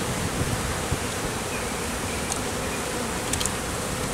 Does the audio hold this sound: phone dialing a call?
no